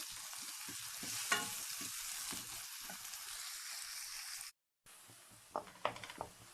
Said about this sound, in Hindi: प्याज को हमने हल्का सा इसको ऑयल में फ्राई करना है